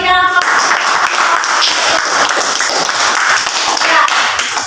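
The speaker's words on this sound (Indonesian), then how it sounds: "Oke, mari kita berikan aplaus." Sustained applause from a classroom audience following a group's chemistry class presentation, dense and steady clapping throughout at close range, with no talk over it.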